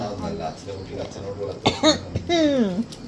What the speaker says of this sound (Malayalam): ചുമ ചുമ ഭയങ്കര ചുമയാണ്